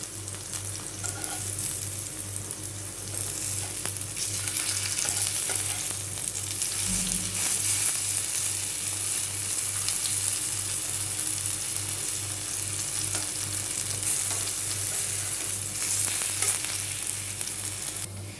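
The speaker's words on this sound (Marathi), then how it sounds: "दोन्ही बाजूने असे फ्राय करून घेतले।" Chicken pahadi tikka pieces fry in a pan with a steady, dense sizzle that continues throughout. There are light scrapes and some faint clatter, and no talking.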